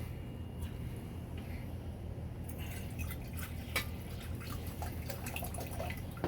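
Diluted liquid is poured into a wastewater treatment tank, starting as faint drips and turning into a steadier trickle and splash over a low background hum.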